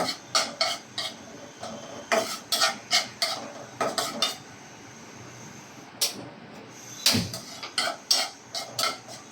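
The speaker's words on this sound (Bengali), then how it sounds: "এভাবে রসুন আর পেঁয়াজটাকে একটু বাদামি করে আমি ভেজে নিব" Garlic and onion frying until brown in a pan, with quick repeated clinks and scrapes of a spoon against metal in short bursts over a faint background sizzle, close by.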